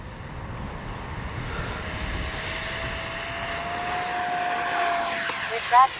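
A Freewing F-22 70mm electric ducted-fan RC jet passes at full speed in a hard dive, its high-pitched whine steady and then rising in loudness as it draws closer, over outdoor wind noise.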